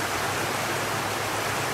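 River water rushes in a steady broadband wash, loud and close, with no voices over it.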